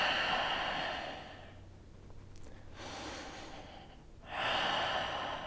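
Slow, deep yoga breaths, with long airy exhales drawn out close to the mic, a quiet pause between them and a fresh breath starting near the end, no speech.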